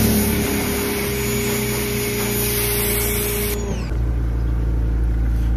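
A pressure washer gun from a mobile car detailing van blasts car wheels with a loud, steady hissing spray over a motor drone, the tone shifting partway through as the spray changes, with no voices.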